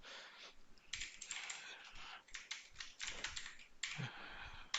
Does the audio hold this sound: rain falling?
no